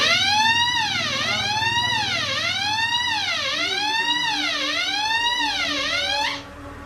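An alarm siren set off by a call point wails loudly and continuously in repeated rising-and-falling sweeps, then cuts off abruptly near the end.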